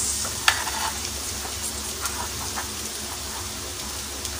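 Onion sizzling in a hot pan with occasional stirring scrapes, a steady crackling hiss at moderate volume with no talk.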